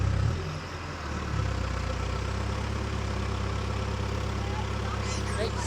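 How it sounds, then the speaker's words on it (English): A tractor engine runs steadily in the background at a ground-preparation earthworks site, a loud low-pitched continuous rumble with a slight dip near the start, while a person talks over it. "there's a tractor going in the background and I'm not operating it"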